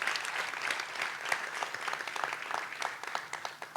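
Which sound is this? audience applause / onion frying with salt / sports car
audience applause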